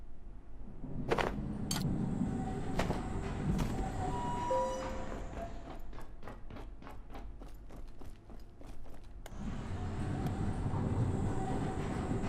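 A moving tram in the video game Abiotic Factor rumbles steadily, with a run of rhythmic rail clacks in the middle and a few sharp metallic knocks, heard alone without talk.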